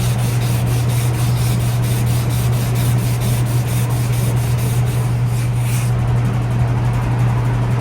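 Spot putty is wiped off car bodywork being prepared for paint, a steady close rubbing and scuffing with quick repeated strokes over a constant low background hum.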